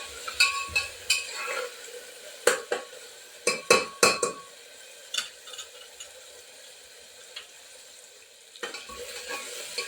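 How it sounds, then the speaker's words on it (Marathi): Tomato and onion sauté in a pan for a field bean curry while a utensil repeatedly clinks and scrapes against the metal in sharp bursts over a faint, low sizzle, with a quieter stretch between and no talking. "टमॅटो आणि कांदा परतलेले आहे"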